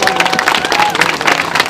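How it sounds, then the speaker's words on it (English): A crowd at a gathering in Seattle breaks into loud, dense applause, many hands clapping close by with a few cheers mixed in. "Give yourselves a round of applause."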